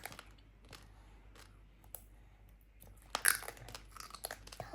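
Someone bites into crunchy fried crab, Cox's Bazar style, and chews it close up, a few soft quiet crunches at first, then a louder cluster of crisp crackling bites near the end, with no talking.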